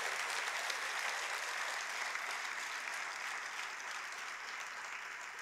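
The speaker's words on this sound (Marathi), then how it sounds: "आपण जरा जोरात टाळ्या वाजवून याचं स्वागत करावं" Sustained applause from an audience at a Marathi centenary felicitation ceremony for veteran cartoonist Shi. Da. Phadnis, dense and steady throughout with no voices over it.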